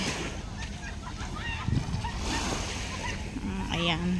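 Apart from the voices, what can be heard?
sea waves at the shore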